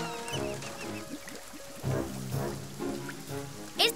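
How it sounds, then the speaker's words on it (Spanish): Rain patters on a surface with scattered drips, mixed with soft intermittent background tones. "Esta lluvia nunca va a parar."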